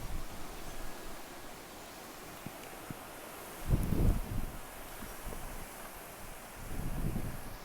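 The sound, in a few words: strong wind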